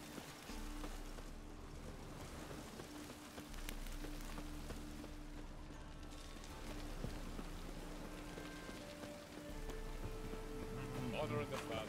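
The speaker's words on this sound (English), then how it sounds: "Looks like rain." Steady rain in the video game The Witcher 3 patters across the whole stretch, a continuous wash of drops with a low rumble beneath and voices talking over it.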